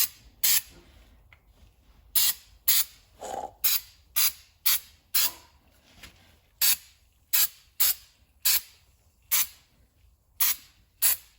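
Fluid Film wool wax undercoating sprayed from an aerosol can, heard as a long series of short, sharp hissing bursts at an uneven rhythm, close and fairly loud, with quiet gaps between them and no talking.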